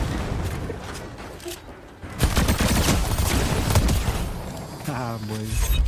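Gunfire crashes from a shotgun in a video game, a dense burst of loud blasts starting about two seconds in and continuing heavily, with a voice talking over part of it.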